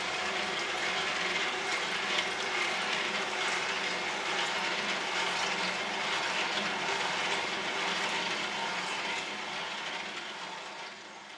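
An Omega VRT 330 vertical juicer runs with water poured through it for cleaning, giving a loud, steady mechanical whir with grinding, ratcheting texture that holds constant for about eleven seconds before easing slightly at the end.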